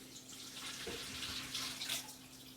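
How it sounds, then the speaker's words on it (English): Soaking water drains off corn husks prepared for tamales, a faint steady trickle and splash close by, with no voices over it. "But let's go ahead and drain out the water so it's much easier to work with."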